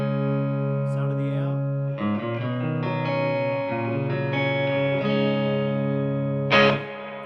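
An electric guitar played through an Eric Gales Brute Drive overdrive pedal into a Fender-style amp gives sustained, slightly driven chords and single notes ringing out clearly, ending with a brighter strummed accent near the close.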